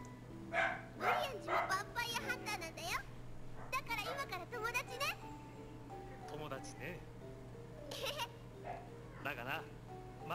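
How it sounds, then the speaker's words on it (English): Dogs bark and yip in short, scattered bursts, some high and whining, against a steady hum, with people talking underneath and between the barks. "I know, the dogs are really ruining it."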